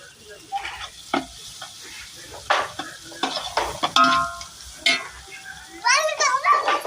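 Vegetables fry and get stirred in a pan while cooking Maggi noodles, a sizzle with intermittent scraping strokes under lively talk from adults and children nearby.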